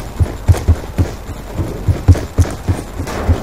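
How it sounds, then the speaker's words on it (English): Running footsteps on concrete in the video game Black Ops 2, a loud, steady series of thudding, low steps about three per second, close and heard alone. "you can hear the footsteps when they're running on the concrete"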